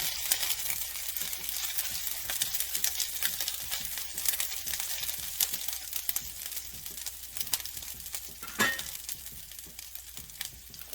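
Onion, garlic and ginger fry in sesame oil over lowered heat, a soft steady sizzle with crackles and faint utensil scrapes, no speech.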